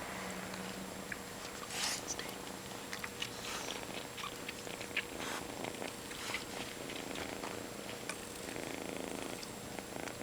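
A mother cat nursing a kitten alongside a nursing dog purrs steadily and close up for the whole stretch, a continuous low rumble with faint small rustles and a few soft chewing-like clicks, no speech.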